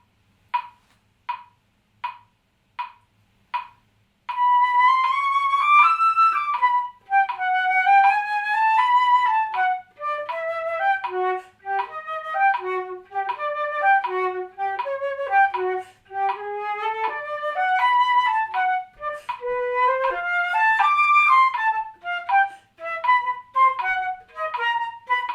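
Flute playing an etude in a long-short dotted rhythm, preceded by several evenly spaced metronome clicks, then quick bright runs of notes moving up and down, clear and close with no talking.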